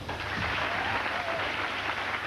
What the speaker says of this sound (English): Listen to this local crowd